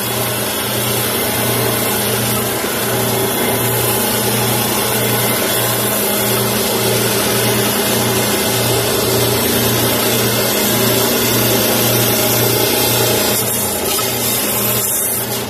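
A lapidary saw cuts slowly through a piece of amber with bug inclusions, a steady loud motor whine with a pulsing low hum running continuously and alone, no talking.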